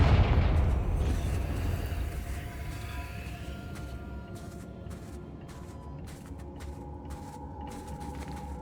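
Confringo fire spell explosions in Hogwarts Legacy hit hardest at the very start with a heavy blast, then fade into a lingering low rumble and debris-like crackle that slowly quiets over several seconds.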